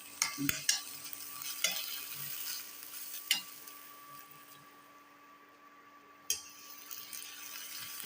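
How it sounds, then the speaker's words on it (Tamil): Quiet, steady sizzle of cluster beans frying in a pan, with a few clinks and scraping stirs over a soft background hiss. "இது நல்லா ஃப்ரை ஆகட்டும்"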